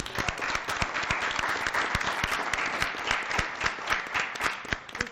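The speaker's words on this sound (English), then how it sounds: "I think we should give them a round of applause" A round of applause for teachers at a city school board meeting: brisk, close clapping from a modest group of people, sharp individual claps standing out over about five seconds.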